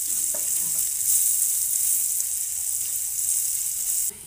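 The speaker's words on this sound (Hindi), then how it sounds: "प्याज और इन सभी को हम अच्छी तरीके से मिक्स कर लेंगे और प्याज के हल्के से सॉफ्ट होने तक इसे पकाएंगे" Chopped onion fries in a pan, producing a continuous bright sizzle, loud and close, steady throughout before cutting off abruptly at the end.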